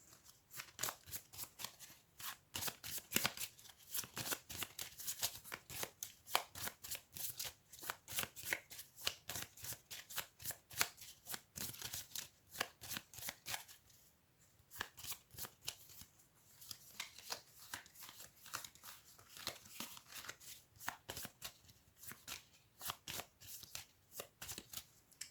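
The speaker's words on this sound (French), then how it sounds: "Et il va remélanger ses cartes de déplacement." Movement cards from the Brazil Imperial board game being shuffled by hand, a long run of quick, crisp riffling bursts that repeat steadily and close up, with no voices.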